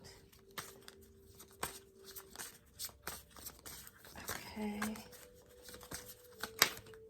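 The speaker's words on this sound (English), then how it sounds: "Let me shuffle again because nothing's quite jumping out." Cards being shuffled in quick riffling bursts and snaps, close up, with a brief spoken word in between.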